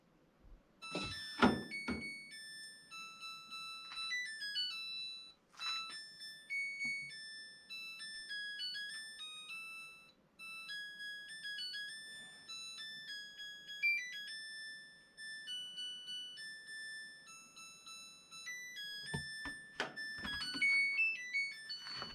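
A Samsung top-load washing machine plays its cycle-finished chime: a quiet electronic melody of bright beeping tones for a long stretch, bracketed by a few soft thumps and clunks.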